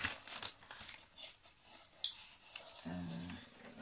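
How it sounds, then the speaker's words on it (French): Quick snipping and crinkling of packaging, a few sharp cuts and rustles close by, followed by a brief low hum near the end. "ma paire de ciseaux"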